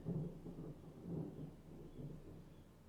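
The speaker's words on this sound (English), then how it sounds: "Insane thunder." Thunder during a storm, a low, muffled rolling rumble that swells in several waves, distant and fairly faint under a soft background hiss.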